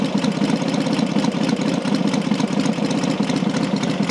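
A classic Matchless G12 motorcycle engine idles steadily up close, a continuous rumbling putter with a fast, even beat and no voices.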